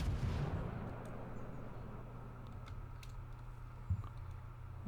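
A World of Warships battleship, the California, fires a salvo from its 14-inch guns. It begins with a deep, heavy boom, followed by a low rumbling decay, a second muffled thud and faint clicking in the background.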